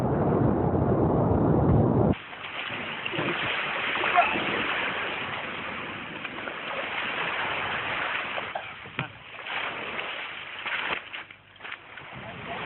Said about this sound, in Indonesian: Tim meninggalkan pantai dengan cara mendayung taktis